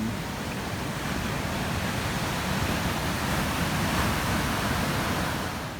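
Ocean waves break at low tide on Dreamland Beach in Bali, forming a steady, broad roar of surf that continues unbroken with no voices.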